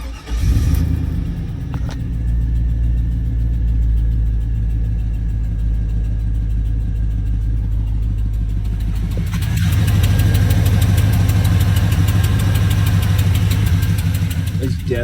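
A 4.8 LS truck engine idles with a rough, ticking exhaust leak at the headers, a steady close rumble that grows louder and more rapid as it revs near the end.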